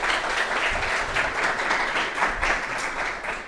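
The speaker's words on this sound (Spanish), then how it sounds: "Jenny, con un aplauso." Steady applause from an audience thanking a guest speaker after a question session at an academic talk on photonics, a dense, even patter of clapping lasting throughout without any voices.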